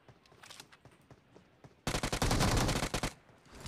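Automatic weapon fire in the mobile game PUBG Mobile: faint scattered shots at first, then a loud sustained burst of rapid shots lasting over a second before it trails off.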